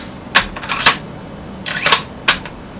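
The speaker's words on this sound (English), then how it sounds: "So the bolt's really smooth." Bolt of a Ruger American .308 Winchester rifle being worked by hand, close metallic clacks and sliding scrapes in two quick cycles, loud and alone with no talk.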